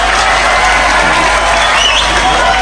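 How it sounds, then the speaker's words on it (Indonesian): An audience at a lively Islamic boarding school gathering with Quran recitation breaks into loud, dense, continuous applause that fills the whole moment. "Makanya jangan buru-buru tepuk tangan dulu"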